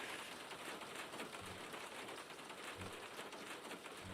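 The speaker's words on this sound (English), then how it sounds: "Sounds like it's raining a lot." Steady broadband rain hiss in a racing video game on a moist track, continuous and fairly quiet throughout with a few low engine-like thumps underneath and no talking.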